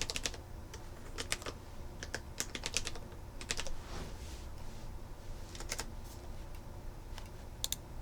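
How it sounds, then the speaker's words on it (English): Typing on a computer keyboard, close and fairly quiet: bursts of crisp key clicks in uneven clusters with short pauses between them, no voices. "I'm going to type in lead queue, or lead assignment"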